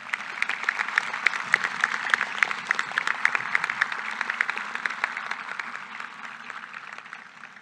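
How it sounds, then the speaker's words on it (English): Applause rises from a crowd at a high school graduation ceremony, a fairly faint, continuous patter of many hands with distinct individual claps in it, steady for several seconds before slowly easing off. "Please join me in a round of applause for the class of"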